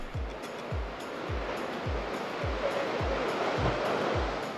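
Big ocean waves roll onto the rocky Big Sur coast along Highway 1, a steady broad roar of surf with low thuds repeating about every half second, heard without any voices.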